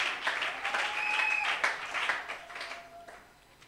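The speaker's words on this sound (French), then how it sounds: "On acclame très fort le Seigneur." A church congregation applauds loudly in praise of the Lord at a service with a large choir, broad crowd clapping with some cheering and a sustained tone running through, fading toward the end.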